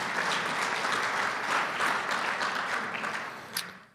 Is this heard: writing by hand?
no